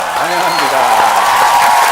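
A congregation claps to welcome church elders and deacons as guests, sustained crowd applause mixed with voices talking over it.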